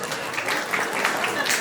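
Applause from a live audience, a dense steady patter of many hands clapping at moderate volume throughout the short stretch, with faint voices mixed in.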